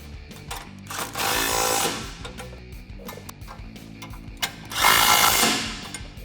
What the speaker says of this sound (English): Grab a 16mm wrench and a 16 socket and tighten them down.